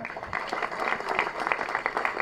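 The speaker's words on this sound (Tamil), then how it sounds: "அவர் நல்ல கரகோஷம் கொடுங்க" An audience applauds a music director at a Tamil event, a steady crowd of clapping hands heard moderately close and continuing throughout without a break.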